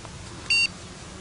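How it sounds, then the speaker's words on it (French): A single short, high-pitched electronic beep from a fishing bite alarm stands out clearly over a low, steady background hum. "Vous avez eu deux bips aigus."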